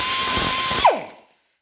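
A pneumatic die grinder works on a rusty machine part, holding a loud, steady high whine close by, then spinning down and falling silent within half a second.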